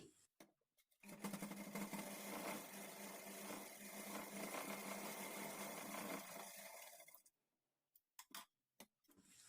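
A sewing machine runs steadily for about six seconds while putting four stitches into a blouse side seam, then stops and gives a few short bursts of stitching, close and clear with no talking.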